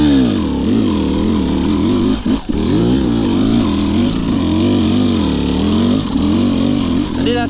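A 2-stroke trials motorbike engine lugs uphill in second gear, a loud, close, low droning note that wavers under load and climbs briefly near the end, with one short dip in the middle.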